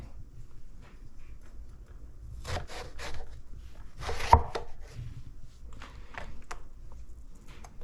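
A knife cuts through a firm eggplant on a cutting board, giving several close, crisp slicing strokes and dull board taps, with one sharper knock in the middle.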